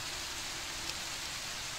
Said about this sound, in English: The rain is kind of loud.